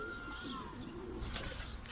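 Pigeons coo softly near a loft as more birds arrive, low murmuring calls over a quiet, faint background with a slight rise toward the end.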